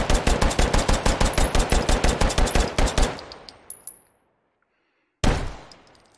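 Glock pistol firing rapidly in the VR shooter H3VR, a fast, even string of about twenty loud close shots over three seconds that cuts to silence, then one more shot near the end.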